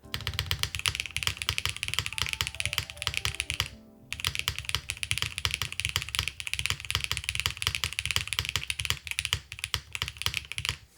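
Steady typing on a Neo75 keyboard fitted with milky yellow switches, a fast run of close, crisp keystrokes that stops briefly near the middle and then resumes at the same even pace.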